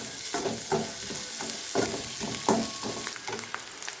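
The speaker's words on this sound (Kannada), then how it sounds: "ಕರಿಬೇವು ಜೊತೆಗೆ ಉಳ್ಳಾಗಡ್ಡೆ ಸ್ವಲ್ಪ ಫ್ರೈ ಆಗ್ಬೇಕು" Onions with curry leaves fry in a pan, with a continuous sizzle under rhythmic, evenly spaced stirring scrapes close by.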